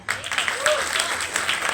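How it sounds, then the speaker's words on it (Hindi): Audience clapping at a business recognition event, a dense burst of applause under a voice that briefly rises above it. "हम उनके लिए तालियां बजाएं"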